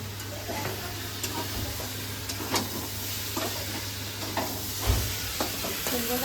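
A pan of fried pumpkin for a prawn curry sizzles and hisses steadily at moderate level after water is poured in, with faint stirring scrapes and a low steady hum underneath.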